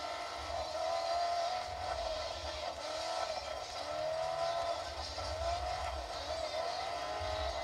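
A rally racing video game plays its car engine roaring and revving with tire scrapes and skids, a continuous, moderately quiet drone with rising and falling engine pitch throughout.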